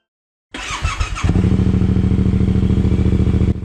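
A Yamaha Tenere 700 motorcycle with an aftermarket Yoshimura RS-12 or Scorpion muffler fires up with a clattering start, then settles into a loud, steady, throaty idle close by with a deep pulsing exhaust note.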